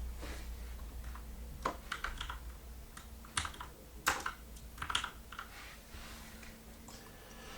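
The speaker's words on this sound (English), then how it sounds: "here I'm going to type patients" Light, scattered keystrokes on a computer keyboard tap out a short word, quiet and close, in small irregular bursts with pauses between.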